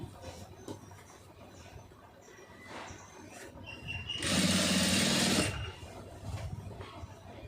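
A sewing machine stitches piping onto a lining blouse in one steady burst of about a second, loud and close, with quieter handling noise and faint room sound before and after.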